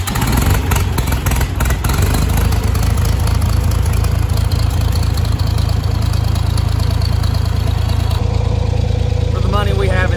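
A 1979 Ford F250 engine turns over with a few sharp bursts, then settles into a loud, rough, continuous idle that fills the whole stretch.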